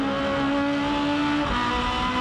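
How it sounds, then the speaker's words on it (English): Aussie Racing Cars race car at Eastern Creek with a high-pitched screaming engine, loud and sustained, its tone dropping briefly as it shifts, then climbing again, with no talk over it. "Listen to the scream of the engine."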